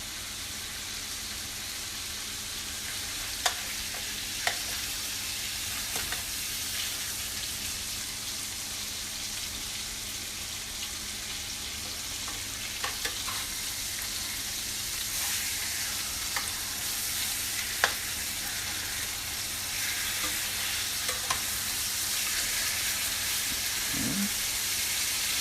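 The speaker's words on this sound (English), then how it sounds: "I'm going to crank the heat up a little bit, get ready to sear the other side." Lamb loin sears in a hot pan over high heat, giving a loud, continuous close sizzle with occasional pops and crackles, steady and unbroken throughout, with no voices.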